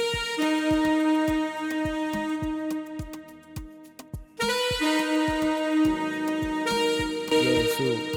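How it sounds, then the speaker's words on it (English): A saxophone phrase programmed in FL Studio plays sustained, bright melodic notes over a steady drum beat, building fuller and louder in its second half, with no voices present. "Our next pattern, we have a sax."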